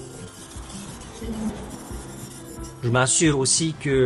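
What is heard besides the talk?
knife sharpening on a Naniwa 800 whetstone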